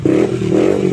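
Yamaha Aerox 155 scooter fitted with a TRC aftermarket exhaust pipe, revving with a loud, steady, close engine drone that holds a constant pitch for under a second, with no voices.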